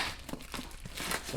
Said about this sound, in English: Let's go ahead and unwrap the plastic